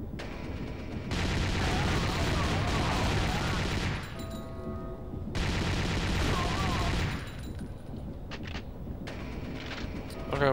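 Consortium submachine gun in the game World War Zero Ironstorm rattles off two long, loud sustained bursts, each a few seconds, separated by short pauses with faint background game sounds.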